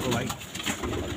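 Pigeons cooing inside a net loft of blue crested birds: a steady, soft, low cooing chorus close by, with a faint human voice in the background.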